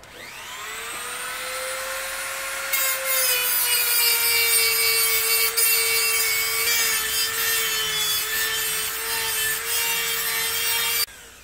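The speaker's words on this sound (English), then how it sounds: "got the Dremel out still. Just gonna start" A Dremel rotary tool whines at high pitch as it cuts into BMW E30 rear wheel-arch panels, running loud and close for about eleven seconds with a small shift in pitch partway through before it stops abruptly.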